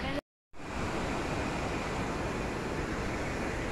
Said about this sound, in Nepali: त्यहाँनिर नयाँ झर्ना आएको रहेछ